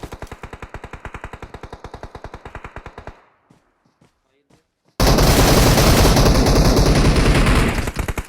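Rapid automatic gunfire in the video game PUBG Mobile rattles in an even rhythmic burst, then falls quiet with a few faint distant shots, before a loud, dense roar of shooting bursts in.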